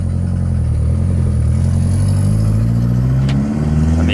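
A Golf GTI MK4 engine revs while driving, a loud, steady mid-range drone rising and falling with the throttle throughout, alone with no voices.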